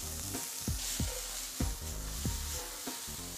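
Skewered meat, onions and garlic sizzle steadily in a hot pan with a loud, constant frying hiss, punctuated by several scraping stirs.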